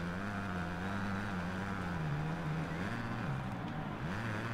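A motocross bike engine in MXGP 2020 drones steadily, its pitch wavering and dipping slightly as the rider shifts throttle, continuous and moderately quiet with no other sounds over it.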